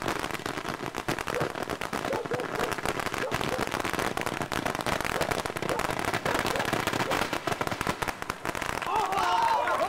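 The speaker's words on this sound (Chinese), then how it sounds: "放炮， 快点，快点" Strings of firecrackers crackle continuously in dense rapid pops throughout, loud and close, with people shouting over the din.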